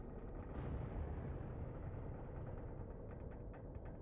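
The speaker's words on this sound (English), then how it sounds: "I heard one explosion." A faint, distant explosion in the Wolfpack submarine video game, heard as a muffled low boom that rolls on as a continuous rumble, with no voices.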